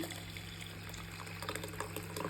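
Chickpea cooking water is poured from a pot into a blender jar in a home kitchen, giving a steady, continuous liquid pour over a low background hum, with no talking.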